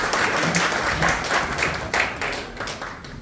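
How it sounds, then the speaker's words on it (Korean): A year-end general meeting audience applauds loudly, a dense, sustained wash of hands clapping close and continuous. "다음엔 늦지 않도록 오시라 다시 한번 큰 박수"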